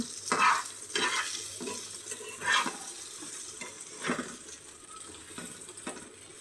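Four eggs fry together in a home-kitchen pan for lunch, a soft sizzle broken by several scraping, stirring strokes, close and fairly quiet, with no one talking.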